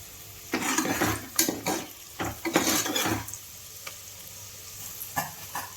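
Spices fry in hot oil in a pot for a one-pot rasam rice, with a spoon stirring and scraping in irregular bursts over a low, steady sizzle, close and moderately loud, with no talking.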